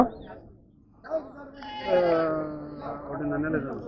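Young male goat kid about one and a half months old at a goat market, bleating in drawn-out wavering calls mixed with nearby people talking.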